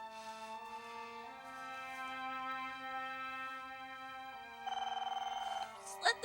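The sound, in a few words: telephone ringing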